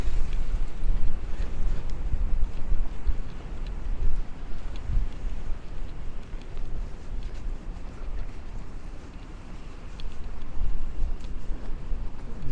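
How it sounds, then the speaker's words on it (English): Wind gusts and rumbles against the microphone on a cold, windy day on 2nd Avenue in Brooklyn near a rail yard, a steady blustery roar with faint city noise. "It is a cold, windy day."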